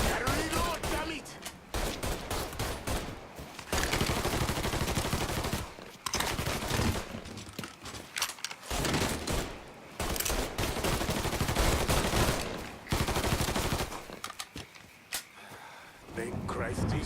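Heavy bursts of automatic gunfire in the video game Mafia III, long loud volleys separated by brief pauses, with game character voices speaking between and over the shooting.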